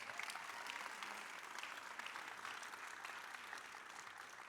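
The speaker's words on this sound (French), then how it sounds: "Voilà l'équipe gagnante. On les applaudit à nouveau." Audience applause for a winning team at a 2023 cybersecurity conference awards evening, steady dense clapping from a crowd, moderately distant and sustained throughout without pause.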